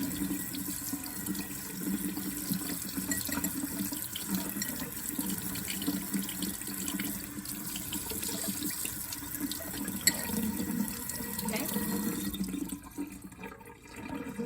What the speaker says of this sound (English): Start rinsing it just to get the paint a little wet. And this is on hot